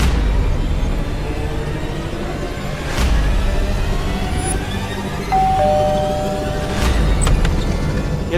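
A doorbell rings inside a home in a Hindi fantasy adventure drama, with chime tones and a couple of sharp hits over a steady, noisy background hum.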